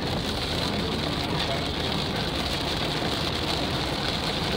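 Rain on the road while driving on highway 118 on Christmas Day, heard as a dense, steady wash of hiss and spray with constant road and engine rumble beneath.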